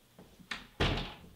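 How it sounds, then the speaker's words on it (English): A door shuts in an indoor movie scene: a couple of light knocks and rattles, then a solid, close thud that rings out briefly, with no voices. "Shut the door."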